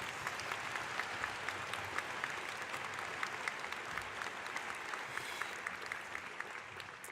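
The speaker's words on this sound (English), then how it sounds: "I want to give him a big round of applause for saying so many names" Steady, fairly distant applause from an audience at a 2014 Friday afternoon university gathering, an even wash of many hands clapping that holds for the whole stretch with no voices over it.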